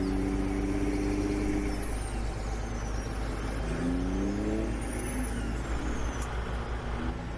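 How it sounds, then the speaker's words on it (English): Modded truck engine in the Farming Simulator 17 video game, droning steadily with rising and falling revs as gears shift, plus a couple of higher whistling tones, moderately loud and alone with no talk. "I don't know about the sounds I put on this truck."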